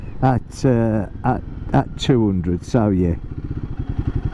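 A Royal Enfield Guerrilla 450 motorcycle lugs at low revs in fifth gear, its engine throbbing beneath a rider's speech before emerging alone as a steady, rapid low pulsing.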